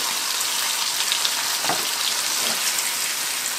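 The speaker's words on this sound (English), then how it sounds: "Frying all these things." A steady, dense sizzle of sea bass pan-frying in a hot pan, crackling continuously without pause and with no voices.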